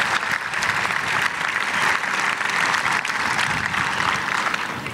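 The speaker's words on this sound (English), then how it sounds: "Big round of applause for National Honor Society." A graduation ceremony audience applauds steadily and loudly, dense crowd clapping filling the space without a break for several seconds.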